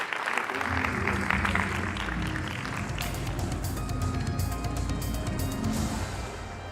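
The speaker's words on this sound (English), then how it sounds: "Kindly give them a round of applause as they exit stage." Audience applause at an engineering summit as a group exits the stage, a dense steady clapping from a crowd lasting throughout, moderately loud with no speech over it.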